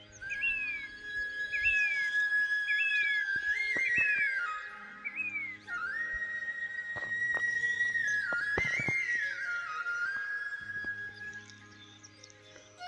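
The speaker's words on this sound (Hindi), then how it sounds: "अब सुनाता हूँ आपको मॉर्निंग की जो चिड़ियों की चहचहाट होती है पहाड़ों की" Birds in the mountains in the morning, clear whistled chirps and short repeated rising-falling phrases close by, with a few faint knocks in between.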